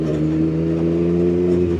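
A Triumph 675 motorcycle engine idles and revs up close, a loud, steady throaty drone with a strong low rumble and a slight change in pitch near the end.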